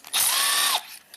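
One short, loud whir from a power tool removing the studs from a Ford Escape alternator, lasting under a second and ending in a falling pitch.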